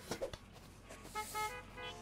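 A car horn in the Gas Station Simulator video game sounds two or three short, bright toots in the second half, with softer background game noise before them.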